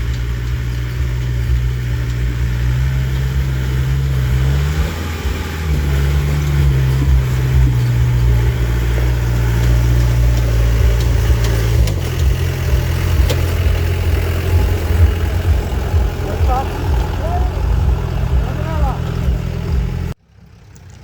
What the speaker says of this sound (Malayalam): അങ്ങനെ അവരുടെ വണ്ടി കയറി വരുന്നുണ്ട്.